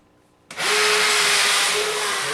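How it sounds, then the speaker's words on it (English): After a brief quiet moment, a power drill whirs on abruptly, drilling a small hole in a kitchen ceiling, and keeps running with a steady, loud whine. "I will drill a small hole in the ceiling"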